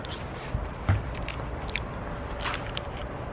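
Someone bites into a crunchy, very thin layer of hardened caramel on a dessert in Paris, giving a few sharp close crunches and chewing clicks over quiet background.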